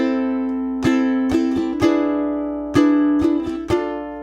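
Ukulele strums measures 13 and 14 of an etude in two groups of short, sharp chord strokes with ringing sustain between them, close and clear, alone with no talking.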